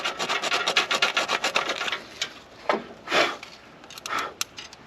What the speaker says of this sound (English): I've got a little coarser grit to work on these points a little bit.